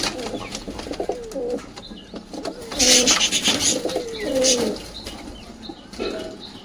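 Pigeons coo in low, rolling calls, repeated several times, with bursts of fluttering wings close by.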